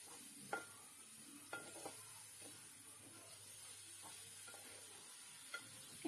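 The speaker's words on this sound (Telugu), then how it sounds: "మనం ముందుగా కడిగి శుభ్రం చేసుకున్న చికెన్ కైమా ముక్కలు కూడా వేసుకొని" Chicken keema mince being stirred as it fries with onions in a pan, soft occasional scraping knocks over a faint steady sizzle and hiss.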